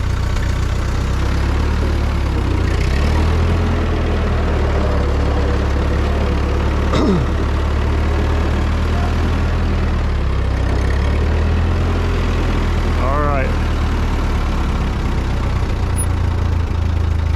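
A Ford 9N tractor engine idles steadily in a low, continuous rumble, loud and close, with no talk over it throughout.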